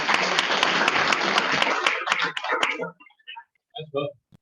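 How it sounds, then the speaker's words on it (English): A round of applause at a Rotary Club meeting, dense clapping from the room for about two and a half seconds, thinning to a few scattered claps as voices pick up. "Let's give them a big round of applause."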